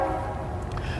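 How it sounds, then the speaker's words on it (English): A train rumbles past close by a farm where goats graze, with a steady low roar and a horn blowing continuously through the whole second. "sorry for the train"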